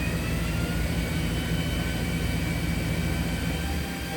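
Spindle of a 2005 Mazak VCN 410A CNC vertical machining center running up with no tool fitted, a loud steady whine and hum over dense mechanical noise, holding constant pitch throughout, no voices.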